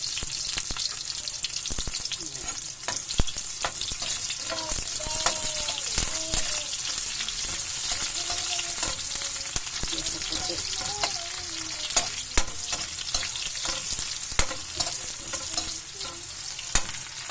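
Onion and garlic sautéing in a pan for ginisang ampalaya, a steady close sizzle broken by frequent spatula scrapes and taps, with faint talk briefly in the background.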